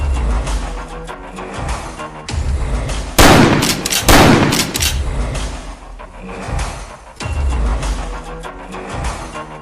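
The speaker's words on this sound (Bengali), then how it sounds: "আগে দুটো ফাঁকা গুলি ছোড়ো তো।" A gun is fired twice into the air with blank shots at the edge of a jungle: two loud, sharp blasts about a second apart, each with a ringing tail over a busy background.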